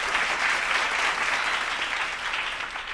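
A church congregation clapping hands together during a sermon, a dense, even burst of applause that fills the space alone for a few seconds.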